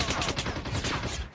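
Rapid gunfire in the mobile shooter Call of Duty Mobile, a dense, continuous burst of shots with a heavy low rumble, loud and steady throughout, briefly dropping at the very end.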